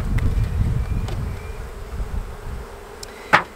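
Honey bees buzzing on a hive brood frame during a queen search, a close, steady droning hum of many insects, with a brief louder buzz near the end as one passes by.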